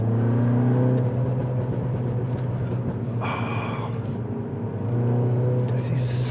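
A modified Mini F56 JCW engine drones steadily and loudly under load throughout, with a brief hissing burst around the middle before the note settles back into its deep humming tone.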